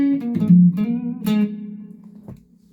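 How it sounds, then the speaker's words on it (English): An electric guitar plays a blues riff with a double-string bend, giving a close, sustained, wavering tone with a couple of plucked attacks that fade out after about two seconds. "to make like the double string sound like this, but you want to bend it."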